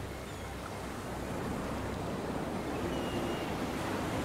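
Ocean waves washing onto a beach, a steady wide roar of surf with some wind rumble, no voices.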